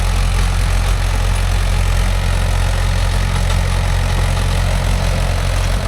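A Mahindra 415 DI tractor engine runs loud and steady at close range, a continuous low diesel rumble with no break, while the tractor works a 36-blade rotavator among coconut trees.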